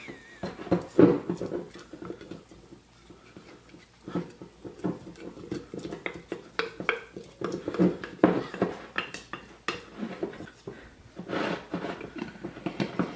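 A spoon stirs sourdough starter inside a glass jar, giving a close run of irregular clinks, taps and scrapes against the glass, uneven in rhythm and fairly quiet.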